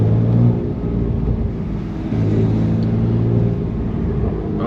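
A BMW F80 M3 Competition driving after a blizzard, its engine a steady low rumble with faint road noise, heard from inside the cabin, with no talk.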